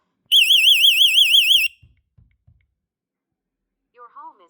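A Vivint home security system's alarm siren blares loudly as a warbling electronic tone for over a second, then stops; a few soft clicks follow, and a synthesized voice announcement begins at the end.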